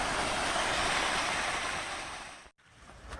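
Creek water flowing near a waterfall pool makes a steady rushing wash, close and fairly loud, that dips into a brief gap near the end before resuming.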